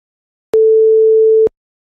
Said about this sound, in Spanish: Y la Sine Wave, que es la onda sinusoidal.